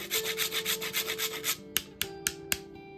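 A whole nutmeg is rubbed against a grater for a broccoli soup: a steady run of rhythmic rasping strokes, then a few sharp knocks as the grater settles, close and quiet with no voices.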